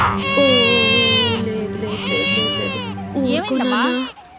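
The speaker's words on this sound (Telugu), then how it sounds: "ఇప్పుడే పాలు తాగాడు, మళ్ళీ ఎందుకు ఏడుస్తున్నాడు?" A baby cries loudly and close by in drawn-out wailing bursts, with brief breaks and a final rising sob before it cuts off.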